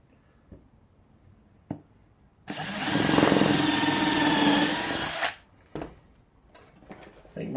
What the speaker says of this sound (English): my drill bit might be a little bit on the bent side